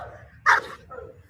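A frightened dog gives a single sharp, high-pitched yelping bark, close and fairly loud, followed by a faint whine.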